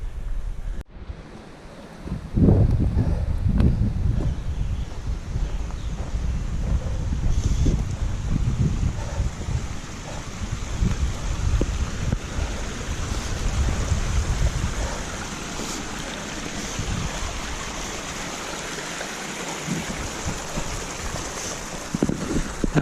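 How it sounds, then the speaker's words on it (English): Small creek crossing a hiking trail at Ingalls Creek, heard as a continuous close rushing wash of water mixed with some wind noise, steady throughout with no voices. "That must be about the 20th little creek stream we've crossed so far since we left camp this morning."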